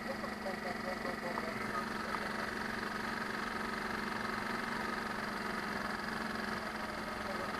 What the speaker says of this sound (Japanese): アイドリングは安定してますね。